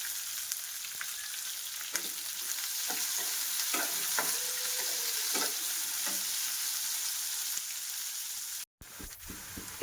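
Onions fry in a pan with a steady, moderately quiet sizzle and soft stirring taps, close up and with no voices, briefly cutting out near the end.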